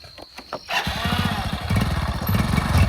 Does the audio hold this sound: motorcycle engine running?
yes